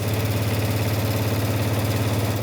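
A sewing machine runs steadily, stitching a long fabric tube sewn right sides together for quilt-block embellishment, a continuous motor hum with a fast even stitch rhythm close by and no talk.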